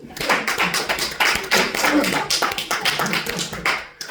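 A church congregation claps together in steady, fast rhythm, dense and lively applause filling the room for a few seconds, with faint voices mixed in.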